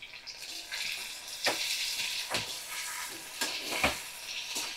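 Two spoonfuls of cumin paste hitting hot oil in a pan over a raised medium-high flame, giving a bright hiss with several sharp bursts of spitting and crackle, near and alone without talk.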